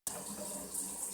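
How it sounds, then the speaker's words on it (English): Hot water starts suddenly from a kitchen tap and runs steadily into a sink, a soft hiss and splash heard up close. "turn the hot water on"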